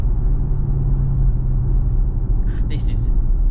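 A 2022 Audi SQ5 with a 3-litre V6 diesel accelerates from 40 to 60 under roughly 60% throttle, a loud deep engine rumble heard from inside the cabin, with a brief faint voice near the end.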